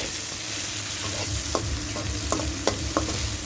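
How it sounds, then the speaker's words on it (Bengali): Onions and whole spices fry in hot oil for a chicken curry, a steady sizzle under repeated scraping and knocking of a spatula stirring the pan, several sharp clicks punctuating the continuous frying. "এগুলো হালকা ভাজি করে নেবেন"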